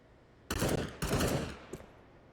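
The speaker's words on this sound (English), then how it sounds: "Burst fire for the Galils" Galil rifles fire in bursts during a CS:GO match on Vertigo: two loud, fast bursts of rapid shots roughly half a second apart, then a single fainter shot trailing off.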